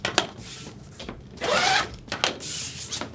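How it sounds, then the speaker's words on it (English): Rotary cutter slicing lengthwise down the middle of a fabric bag panel for a box bag, giving a few short scraping strokes and one longer, louder rasping cut, close and with no talk. "I'm just gonna run it all the way down the middle here, separating my bag into two pieces"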